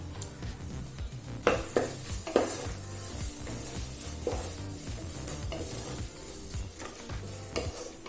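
Chili powder and yogurt sizzle in a pan for egg biryani while a spoon stirs and scrapes the mixture, close and moderately loud, with soft frying crackle under repeated scraping strokes.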